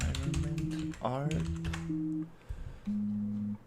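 Computer keys click in short bursts of typing at close range, partly masked by overlapping speech and tonal sounds, with brief pauses between runs.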